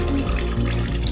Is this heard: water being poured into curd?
yes